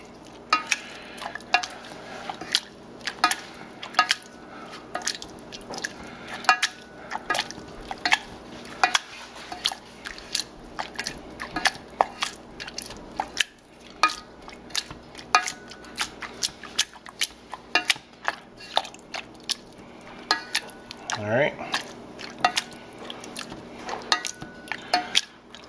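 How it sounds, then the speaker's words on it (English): Cooked summer squash with butter, milk, salt and pepper is mashed in a bowl, a steady run of soft wet squelches and scraping taps repeating close by for a long stretch. "I'm gonna mash them, just like mashed potatoes"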